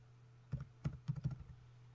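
A handful of keystrokes tapped on a computer keyboard, close and quiet, coming in an uneven short burst with brief gaps and no voices.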